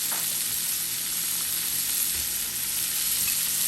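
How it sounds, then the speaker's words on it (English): Chili oil sizzles hard in a frying pan being readied for shrimp, a loud, dense, continuous crackle held close throughout without any voices. "And get that chili oil gotta go in there."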